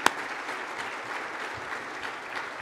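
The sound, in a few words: applause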